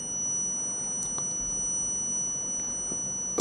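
Mobile phone ringer tested with a multimeter, giving thin, steady high-pitched electronic tones that hold throughout, fairly faint, with a couple of brief bleeps and no talking.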